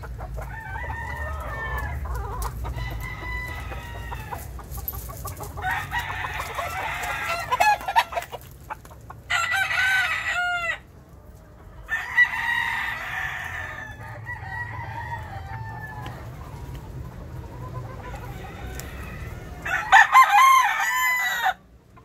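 Roosters and hens at a farm veterinary supply, including fighting cocks, crow loudly in repeated bursts while chickens cluck between them, close and clear over a low hum.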